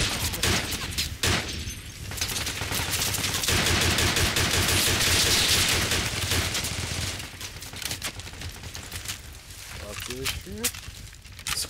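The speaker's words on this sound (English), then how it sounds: "They're probably moving into the gunfire now." Rapid bursts of rifle and machine-gun fire crackle near and far in the military shooter game Project Reality, fighting around a radar station, with radio chatter and voices talking over the shots.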